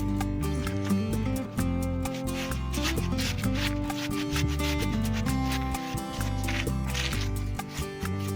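Wet look concrete sealer is brushed onto rocks, producing soft rubbing and scrubbing strokes in an irregular rhythm, close by, over a steady background of music.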